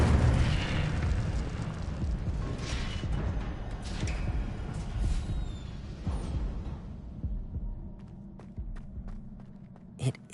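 Fire spell cast in the Hogwarts Legacy video game, a loud roaring whoosh and crackling burst filling the first several seconds before fading, followed by quieter scattered footsteps and a small pop near the end.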